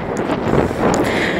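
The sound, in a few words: wind blowing on a beach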